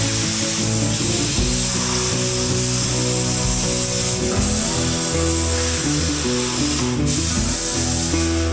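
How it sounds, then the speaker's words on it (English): A steady, loud mechanical whirring and grinding runs continuously, like a drill boring through small metal gussets, with no voices. "So we'll drill a hole in these little gussets that come with this piece"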